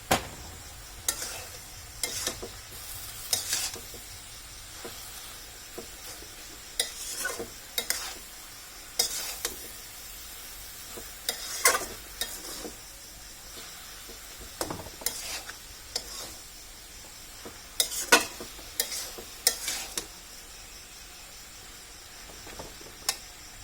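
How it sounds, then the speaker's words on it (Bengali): Chalta pickle with vinegar is stirred in a pan, a spoon scraping in irregular bursts of clinks and scrapes over a soft, continuous sizzle, with no voices. "কিছুক্ষণ নাড়াচাড়া করব"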